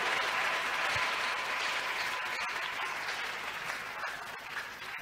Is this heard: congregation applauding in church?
yes